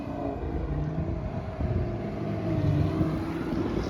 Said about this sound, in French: Et là d'un coup on entend un moteur, mais un moteur musclé